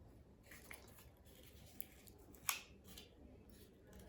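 Scissors cut through wrapping paper, one faint, crisp snip standing out against a quiet room, with a few softer rustles and clicks around it.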